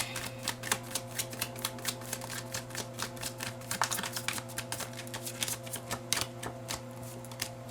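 Tarot cards are shuffled and riffled in a steady stream of soft rapid flutters and clicks, close up, over a constant low electrical hum.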